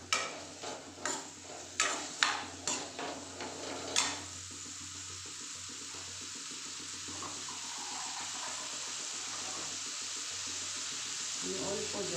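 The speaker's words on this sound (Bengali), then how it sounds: "আমি অল্প জল দিয়ে আমি ঢেকে দেবো।" Water poured into a pot of lentils and squash for a Bengali dal, a steady close stream and slosh following several sharp stirring knocks at the start, with faint speech underneath.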